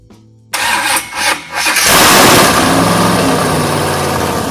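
A Chrysler 426 Hemi V8 racing engine cranks briefly, then catches and roars into a loud, sustained rev, staying close and dominant with no talk.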